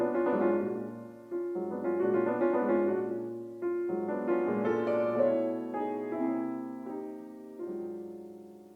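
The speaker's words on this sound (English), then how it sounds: "Listen to the beginning of Perle's Ballade." Solo piano plays the opening of George Perle's Ballade: sustained, resonant chords and layered lines entering in several phrases, each decaying gently before the next, close and moderately loud with no voices.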